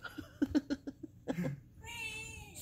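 A man imitates farm animal noises, giving a rapid series of short cat-like meows and squeaky calls, then a longer hoarse, drawn-out cry, close and fairly quiet.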